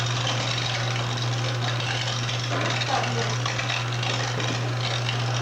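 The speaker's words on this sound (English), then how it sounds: "Now this grinder, since it is kind of wore out, you'll see how it's kind of squishing the meat out." A worn-out homemade electric meat grinder squishes meat through, its motor giving a steady, loud drone with a constant low hum and a rough wash of noise that stays continuous throughout.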